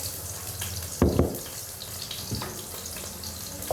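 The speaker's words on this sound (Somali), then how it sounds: "waxaan ku soo shubayaa basashii" Chopped onions hit a pot of hot oil while cooking rice and chicken, bursting into a sudden loud sizzle that settles into a steady frying hiss, with a smaller crackling flare a little later.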